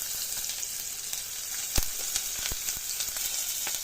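Onion sizzling in a frying pan, a bright, steady hiss with scattered sharp pops and a few spoon clicks.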